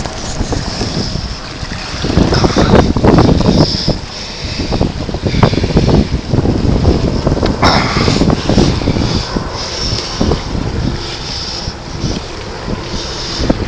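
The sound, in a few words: sailboat sailing with wind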